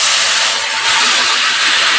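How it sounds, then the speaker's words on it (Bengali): Ground spice paste hits hot oil with a loud, steady hiss that barely wavers across two seconds, bright and close, in a Bengali double-yolk egg kosha curry, with no talking. "বাটা মশলা অ্যাড করে দিলাম তেলে"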